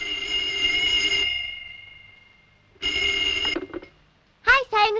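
A telephone rings in repeated bursts, its bell tone clear and fairly loud, with short pauses between rings and a brief voice at the end.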